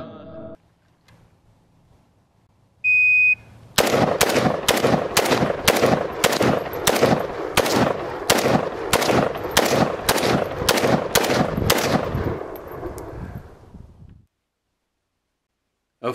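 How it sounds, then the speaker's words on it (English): Loud, close AKM assault rifle gunfire, a long rhythmic string of about a dozen sharp shots at a steady pace, preceded by a brief electronic tone and ending in fading echo. "Автомат Клешнокова модернизированный."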